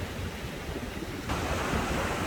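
Ocean surf rolls in at Daytona Beach, Florida: a steady, broad wash of breaking waves with wind buffeting the microphone, growing slightly louder partway through, with no voices.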